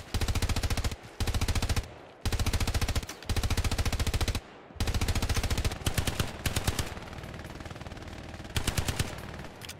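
Machine gun fire in the World War II shooter Hell Let Loose, loud rapid bursts of roughly a second each, separated by short gaps, then a stretch of quicker, more ragged firing.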